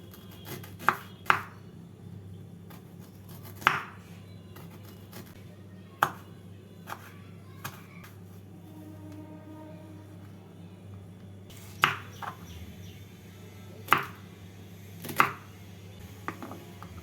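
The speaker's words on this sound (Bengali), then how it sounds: "বাঁধাকপিটাকে এইভাবে কেটে নিচ্ছি" A knife chops cabbage on a board in a few sharp, irregular knocks, with quiet gaps between them and no talking.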